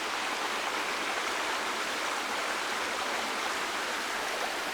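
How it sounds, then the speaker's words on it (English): River water runs gently over rocks near an old bridge and tunnel, a steady, dense rushing wash that stays even throughout with no voices. "the water's just gently running over the rocks as it moves towards some rhododendron by the old bridge"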